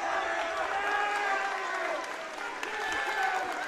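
Loud crowd noise fills a high school gymnasium during a varsity boys wrestling section match, a steady roar of cheering and shouting voices with scattered claps that dips briefly midway before swelling again.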